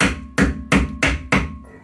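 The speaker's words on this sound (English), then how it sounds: "Use a dead blow hammer." A dead blow hammer strikes a nut threaded onto a bolt of a Ford 8.8 IRS differential, five heavy, evenly spaced thuds in a row, close and loud with a dull ringing tail.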